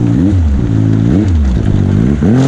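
A Yamaha Sidewinder snowmobile with a 270 hp reflash on pump fuel revs in three sharp, rising pulses over a steady, loud, close idle, with no talking.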